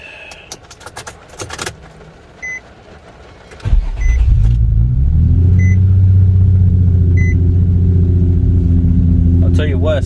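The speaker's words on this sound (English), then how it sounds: "I'm gonna just try to see if I can turn it on and see if it sounds any better." A 2008 Nissan 350z starts up: keys rattle and the starter whirs briefly, then the engine catches with a loud surge and settles into a steady, close idle that continues to the end.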